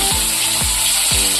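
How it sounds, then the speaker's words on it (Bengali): Rohu fish pieces go into hot white oil in a heated pan, producing a loud, continuous frying sizzle with a few sharp bursts as the oil spits, close up and without speech. "তেলটা গরম হয়ে গেছে, ওর মধ্যে মাছগুলো দিয়ে দেব।"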